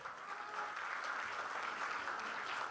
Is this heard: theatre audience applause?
yes